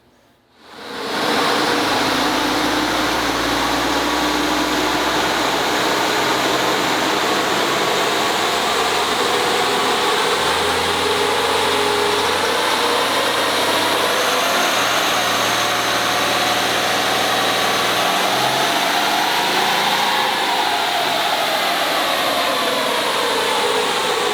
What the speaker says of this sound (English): we started off the dyno runs